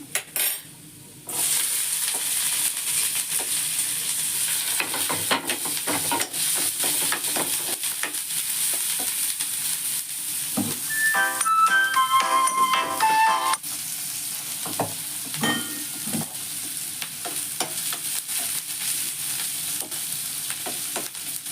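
Chopped onion frying in a pan for egg bhurji, a loud, continuous close-up sizzle that persists the whole time, briefly joined midway by light clinks of a utensil against the pan.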